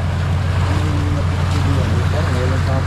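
A boat moving on a river with a strong current, a steady low engine rumble and water wash, while voices talk over it.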